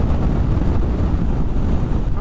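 Strong wind buffets the microphone while riding a Honda ADV 150 scooter, a steady, loud low rumble, gusting roughly and continuously with no clear voices over it.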